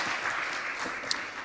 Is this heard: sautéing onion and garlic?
no